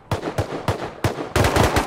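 Bursts of SMG fire in a battle royale video game, four short clusters of rapid shots with brief gaps, the last burst longer and sustained, close and loud with no talking.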